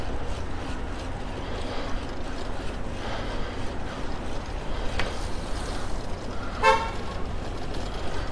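A car horn honks at a skater in city traffic, one short clear toot standing out near the end over steady street rumble and passing traffic noise.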